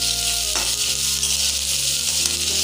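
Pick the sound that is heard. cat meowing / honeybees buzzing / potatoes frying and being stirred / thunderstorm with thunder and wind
potatoes frying and being stirred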